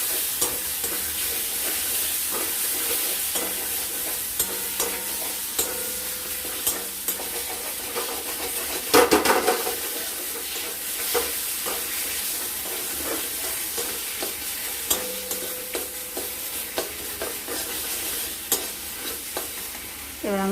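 Masala and whole tomatoes sizzle and fry in a pan for catla fish curry, a steady close crackling hiss broken by repeated stirring scrapes, with one louder clatter partway through.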